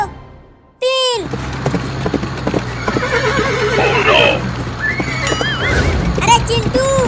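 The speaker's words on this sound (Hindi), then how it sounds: "बाबू का घोड़ा तो पहले ही रेस में आगे हो गया।" Cartoon horses racing, a sudden loud whinny after a brief silence, then galloping hoofbeats under lively music with further neighs and squeals near the end.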